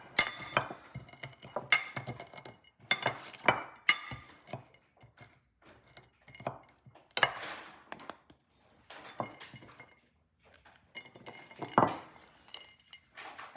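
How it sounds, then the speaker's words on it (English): Walnuts crushed by hand over a frosted carrot cake, scattered clicks and crackles of shells and nut pieces in irregular bursts, close and fairly quiet, with no talking. "I'm gonna go ahead and crush these walnuts by hand just to sprinkle them on top"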